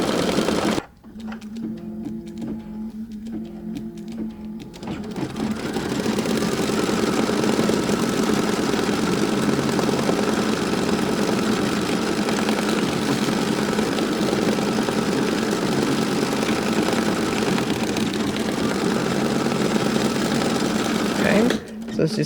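An embroidery machine stitches the fill of lettering on a quilt block with Mylar embroidery sheets, a steady loud mechanical whir running continuously after a brief start-up with lighter stitching.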